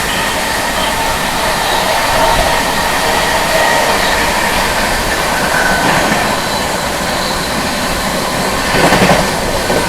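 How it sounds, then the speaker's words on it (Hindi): The Sampoorna Kranti Express overtaking the Triveni Express on Indian rails, a loud, continuous close roar of train wheels and rattling coaches with faint clatter and a brief squeal near the end. "अपनी संपूर्ण क्रांति एक्सप्रेस ओवरटेक करने जा रही है 15075 शक्ति नगर टनकपुर त्रिवेणी एक्सप्रेस"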